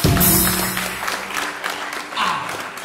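A church congregation claps during a worship service, a burst of dense applause that starts strong, eases slightly and then rises again before fading out.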